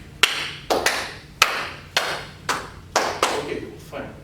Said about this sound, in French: j'applaudis, tu applaudis et ça passe comme ça au fur et à mesure